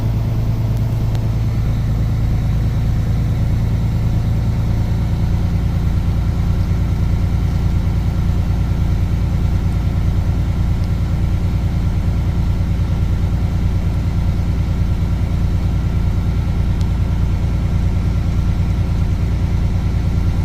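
A truck diesel engine running steadily during an air brake pre-trip check, a loud low rumble that rises slightly as the RPM is raised and then holds as a constant drone.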